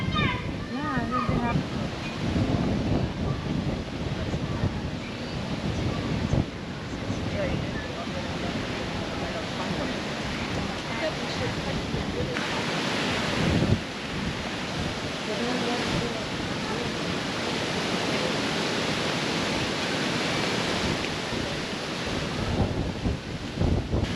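Surf on a Boracay beach rolls and washes steadily in a broad rushing wash, with gusts of wind buffeting the microphone and voices talking in places.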